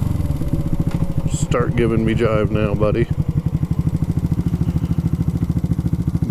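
A vintage carbureted motorcycle with slightly dirty jets idles unevenly nearby in a fast, lumpy chugging rhythm. Someone talks over the first half, then the engine runs alone.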